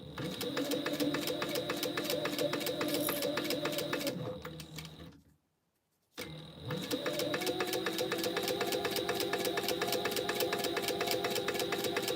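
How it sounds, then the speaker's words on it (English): A sewing machine stay stitches fabric with a 1/8 inch seam, running in a fast, steady mechanical whir, stopping briefly mid-clip, then starting again and carrying on evenly, close and alone. "we're just gonna stay stitch the first piece. With 1/8 of an inch."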